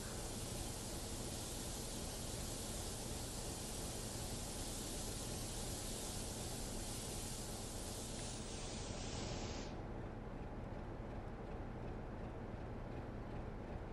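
Air brakes of a BR Class 33 locomotive charging in Train Sim World, a steady loud hiss of rushing air that holds evenly, then the upper hiss cuts off partway while a lower rushing noise carries on.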